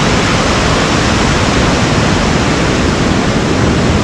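Ketchikan Creek in Alaska rushes loudly and constantly, a close, unbroken roar of flowing water filling the whole stretch without any voices.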